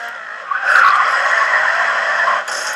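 Racing car drifting in the video game Grid 2, a sustained tire-skid screech with engine noise that swells after half a second and holds steadily to the end, loud and alone.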